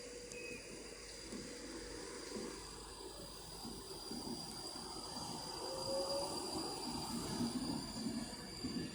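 Avanti West Coast service, a Birmingham Pride train bound for Manchester Piccadilly, pulling out of Stockport station on the West Coast Main Line, with a steady rumble of wheels and motors that builds gradually, faint squeals over a constant platform hum.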